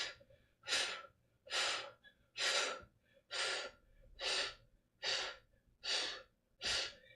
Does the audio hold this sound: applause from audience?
no